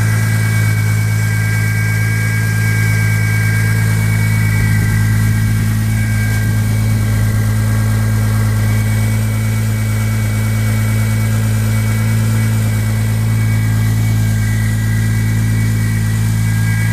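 A 1999 Lexus GS300 with a single-turbo engine built to about 600 wheel horsepower idles steadily, giving a loud, close, continuous droning hum with a constant pitch and no break throughout.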